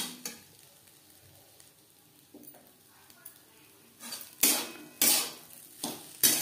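Winter vegetable fried rice being stirred in a pan over a medium-low flame, with a few sharp scrapes and clinks of the utensil against the pan growing louder toward the end over a faint background.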